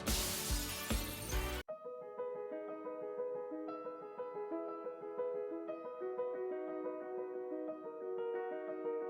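A loud glass-shattering crash in a Jones Paint and Glass advertisement, a dense burst of breaking glass lasting under two seconds, then cut off abruptly by sustained musical tones.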